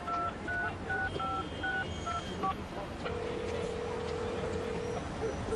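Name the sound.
dialing a number on a cell phone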